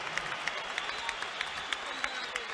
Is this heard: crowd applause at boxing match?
yes